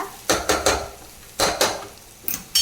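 A spatula scrapes and clatters against a pan as amaranth leaves and sliced onions are stirred together for a fry, giving five sharp, close bursts in uneven rhythm with a faint sizzle underneath.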